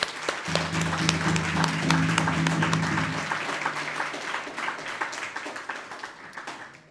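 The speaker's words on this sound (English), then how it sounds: "Give them a round of applause, please" An audience at a University of Minnesota American Indian Cultural House fall feast applauds the participants with dense, steady clapping that slowly fades. A low voice is heard over the first few seconds.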